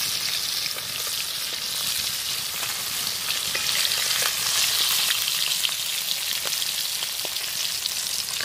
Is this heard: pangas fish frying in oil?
yes